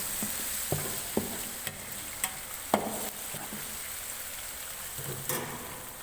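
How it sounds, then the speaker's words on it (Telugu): Ginger paste fries with onions in a pan, making a steady soft sizzle broken by sharp scrapes and clinks of a spoon stirring several times. There is no speech. "అల్లం పేస్ట్ పచ్చివాసన పోయే వరకు వేగించుకోవాలి"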